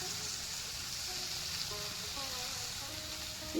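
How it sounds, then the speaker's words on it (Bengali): Chicken liver frying in a pan with salt and turmeric, a soft continuous sizzle and hiss at low level with faint clinks, no talk. "ভালো করে ভেজে নিচ্ছি।"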